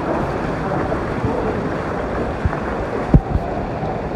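Water flows out from inside rocks at Moola Chotok in Khuzdar, Balochistan, a steady rushing wash with gusts of wind noise and a couple of brief knocks near the end.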